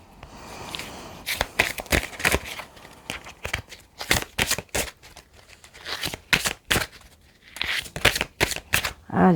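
Tarot cards are shuffled in quick bursts of crisp riffling and flicking, close and fairly loud, with short pauses between the bursts and no talk.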